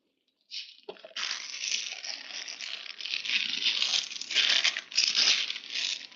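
Plastic bag holding leaf spring parts for a Toyota HZJ75 Troopy being unwrapped, a continuous close crinkling and rustling of packaging that starts abruptly after a moment of silence.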